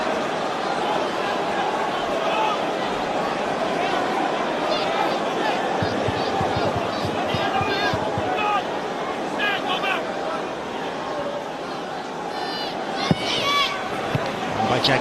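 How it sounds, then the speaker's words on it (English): Football crowd at Everton's Goodison Park in an FA Cup match against Aston Villa roars and applauds as Mikel Arteta goes to take a corner, dense continuous hubbub with scattered shouts, under commentary. "Great applause for Mikel Arteta as he goes across to take this."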